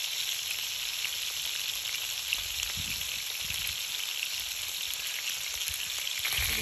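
Afghani chicken fries in a pan with a constant, even sizzle and faint spattering pops, steady throughout with no talking.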